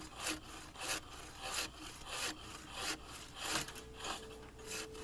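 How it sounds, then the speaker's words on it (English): Handsaw cutting through a hard, insect-damaged log at a sawmill: steady back-and-forth rasping strokes, about seven or eight even pulls, moderately close and fairly quiet, with no voices. "so I had to get out the handsaw."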